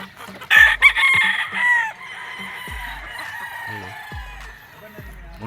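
Gamefowl roosters crow at a farm, one loud nearby crow stretching out over a second while others call farther off, with steady clucking and a rhythmic low thumping beneath.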